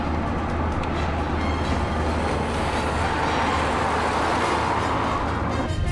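A Saab car engine runs with a steady, loud rumble that holds even and close throughout, with no break or change.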